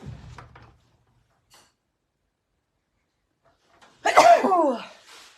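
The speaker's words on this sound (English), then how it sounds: "Nothing like a bit of brightness to coax a sneeze out" A single loud, close sneeze bursts out after a few seconds of near silence, preceded by a faint low rustle at the start.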